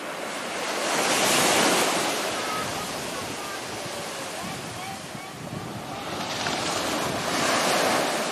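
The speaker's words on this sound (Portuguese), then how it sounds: "Bem bonita a praia, pequena," Waves wash onto a small beach at Zimbros, Bombinhas, lined with vegetation and hills. Surf swells and recedes in two broad surges, with wind buffeting the microphone throughout.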